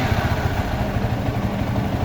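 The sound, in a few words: Yamaha Xabre motorcycle engine running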